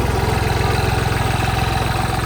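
A tractor engine idles steadily on an open dirt field, a low, even diesel throb with a regular pulsing rhythm, close and continuous throughout with no talking.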